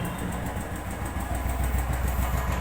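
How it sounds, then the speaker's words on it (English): A Royal Enfield Thunderbird 350X motorcycle engine idles close by, a steady unbroken rumble with a faint rhythmic pulse. "So the engine is currently running"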